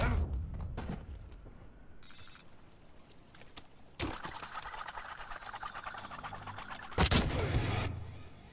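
Gunfire from the video game Black Ops 7 on the Retrieval map cracks out in bursts, with loud shots near the start and sustained firing in the second half over a busy game soundscape.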